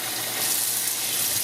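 Tap water gushes into a kitchen sink as it fills with cold water for rinsing tomatoes before canning, a steady close rushing splash that holds at even loudness throughout with no voices.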